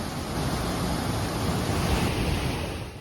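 Center Falls in Temagami pours heavy spring meltwater in a loud, dense, continuous roar heard up close, unbroken across the whole moment with no voices.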